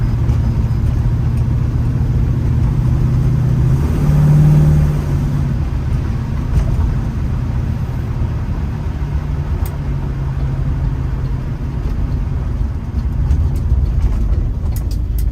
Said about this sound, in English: there's the 67 390 Mustang.